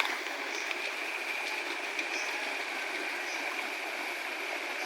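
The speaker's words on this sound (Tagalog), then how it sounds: "Maliit na waterfall." A small hillside creek spills over a little waterfall, giving a steady, even rush of flowing water that stays moderately loud and unbroken throughout, with no voices.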